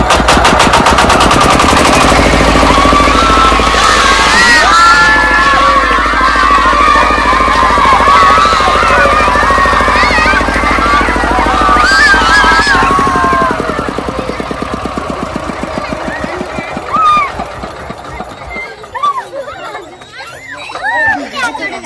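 A small engine starts and runs with a loud, harsh, rapid rattling clatter close by. After several seconds it drops to a lower idle while children's and adults' voices talk and call out over it.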